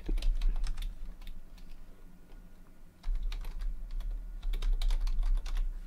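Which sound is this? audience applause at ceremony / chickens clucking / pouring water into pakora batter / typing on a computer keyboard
typing on a computer keyboard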